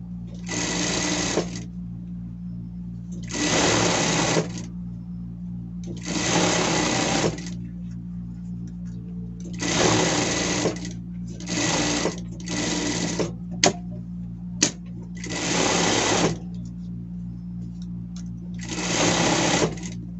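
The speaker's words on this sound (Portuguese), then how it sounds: "Prespontar e dar uma costura de segurança." A sewing machine topstitches a denim shirt in eight loud, even bursts of rapid stitching, separated by short pauses and a steady low motor hum.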